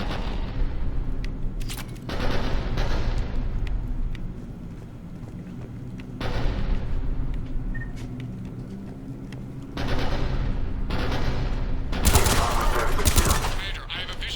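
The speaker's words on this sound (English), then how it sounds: "The cannon fire is clearing the way." Cannon fire from Cerberus cannons in Mass Effect 3 booms repeatedly in heavy, broadband bursts roughly every few seconds over a continuous low rumble of battle, with the loudest salvo near the end.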